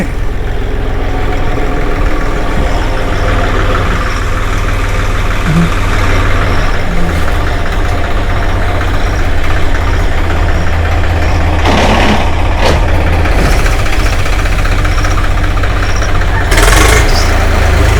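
A tractor engine runs steadily while ploughing a paddy field, a loud, close, continuous low rumble that holds throughout with a couple of brief clanks.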